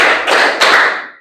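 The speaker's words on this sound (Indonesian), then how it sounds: "Tepuk 1, tepuk 2, tepuk 3." A classroom of children claps in a counted rhythm, a few sharp, close group claps landing in quick succession before cutting off.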